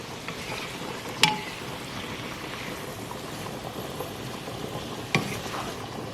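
Shrimp for jerk shrimp pasta fry in a pan with a soft, continuous low sizzle, fairly quiet and close, broken by two sharp utensil clinks against the pan.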